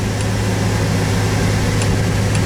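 Air conditioning blower running inside a 2022 Ferrari 296 GTB cabin, a steady, fairly loud broadband whoosh with a low hum underneath and no talking.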